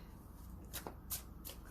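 Tarot cards being shuffled by hand in a few quick, crisp riffling bursts close up, against a quiet background.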